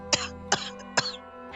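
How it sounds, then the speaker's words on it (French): Three harsh, sharp coughs burst out at even intervals, close and dry, with a choking, throat-clearing edge and a fainter fourth rasp at the end. "tandis que je me mettais à tousser et à suffoquer"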